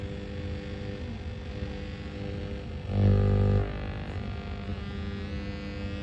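A restored valve radio-gramophone tuned to an empty FM band gives off a steady hiss laced with mains-like hum, swelling into a louder, thicker surge for about half a second midway before settling back. No one speaks.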